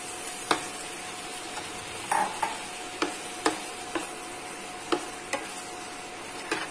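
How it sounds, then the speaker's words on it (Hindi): Marinated paneer cubes frying in a spoonful of oil in a pan, giving a steady soft sizzle broken by sharp spitting pops and ticks at irregular intervals, with no one speaking. "पैन में हम डालेंगे 1 चम्मच ऑयल डालेंगे, साथ ही हम इसमें डाल देंगे पनीर के क्यूब्स जो मैरिनेट हो चुके हैं"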